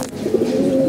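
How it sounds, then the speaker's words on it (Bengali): Male pigeons coo up close, a short burst of soft, throaty low warbling notes. "এই জন্য আমাদের নরকবুতরগুলো আমি দেখাই"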